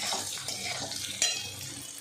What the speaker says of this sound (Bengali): এখানে ভাজাটা আমার প্রায় হয়েই এসেছে, আর একটু হবে, তারপর নামিয়ে নেব